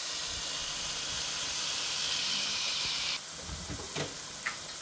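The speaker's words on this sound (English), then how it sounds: "cook the ground meat over medium-high heat, 6 to 8 minutes" Ground meat sizzles and hisses in a skillet over medium-high heat, a steady loud frying noise that softens a little partway through, followed by a few sharp utensil clicks.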